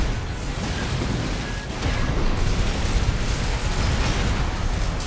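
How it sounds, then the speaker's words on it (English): Coral Missiles explode in Armored Core 6 as a dense, rumbling barrage of booms and crackling bursts that swells louder midway and keeps roaring without letting up. "the Coral Missiles blindsided me"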